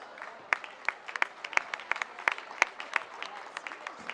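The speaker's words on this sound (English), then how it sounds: "one more round of applause for your senior wrestlers from South Summit High School" A modest crowd at a high school wrestling meet claps in scattered, uneven applause, individual hand claps distinct and fairly close, without any voices over it.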